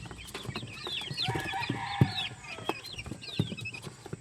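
Young chicks in a small backyard brood peep and chirp continuously close by, mixed with the clucks of nearby adult chickens, with no talk.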